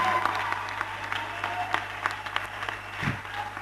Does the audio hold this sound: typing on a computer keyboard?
no